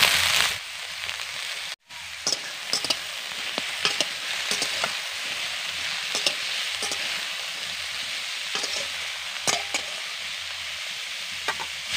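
Chopped carrots and beans for vegetable pulao frying in a pan, a continuous close sizzle with intermittent clicks and scrapes of stirring, one brief gap near the start, no talking.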